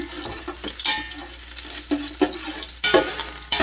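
Aromatics sizzling in hot oil in a pot before oxtail goes in for Caribbean-style oxtails, a steady close crackle broken by several sharper stirring clatters, with no voices.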